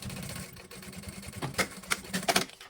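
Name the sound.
sewing machine stitching fabric and plastic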